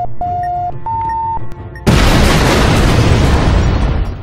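Bomb detonation in the video game Keep Talking and Nobody Explodes: electronic beeps and tones, a brief pause, then a sudden loud booming explosion that roars and slowly fades.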